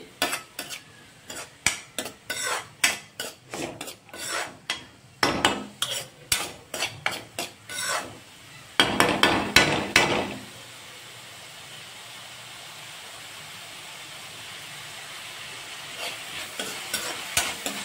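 Cauliflower florets for gobi manchurian fry in a pan, a constant close hiss and sizzle under repeated rhythmic scraping and stirring strokes that stop midway, leaving the oil sizzling on its own.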